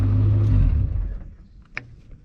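A turbocharged Chevelle engine idles with a loud, close rumble, then shuts off and fades out over about a second, followed by a faint click and quiet.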